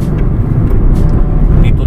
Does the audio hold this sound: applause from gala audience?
no